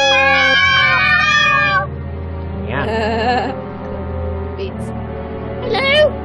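A person imitates a cat with drawn-out, warbling meows, one long cry followed by shorter ones, close and loud over a steady background tone.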